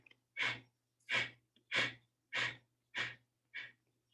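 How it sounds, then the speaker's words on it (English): Six short, sharp exhalations through the nose during yoga breathing, evenly spaced about two-thirds of a second apart, close and quiet in a still room with no talking. "So it's really just short bursts of exhalation through the nose."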